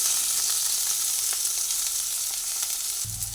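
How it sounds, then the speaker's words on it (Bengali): Potatoes frying in oil for a vegetarian cucumber curry, a steady close hiss of sizzling throughout with a few faint clicks, no voices. "প্রথমে আলুটা ভেজে নিচ্ছি"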